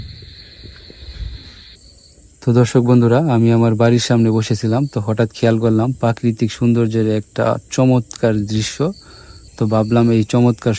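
Crickets chirp at night outside a village home, a steady high trill heard alone at first and then continuing faintly beneath someone speaking close to the microphone.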